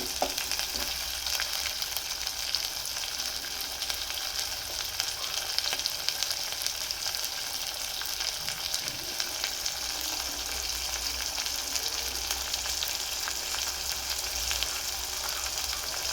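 Tomatoes and ginger garlic paste fry and sizzle in a pan for a vegetable curry, a steady bright hiss running unbroken throughout, with occasional soft stirring knocks.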